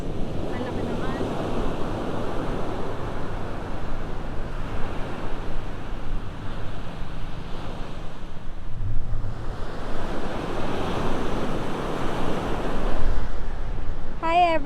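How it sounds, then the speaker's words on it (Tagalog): Sea waves surging onto the shore at General Nakar with a strong current, a steady wash of surf mixed with gusting wind noise across the microphone, swelling louder in the latter half. "Ang laki ng agos."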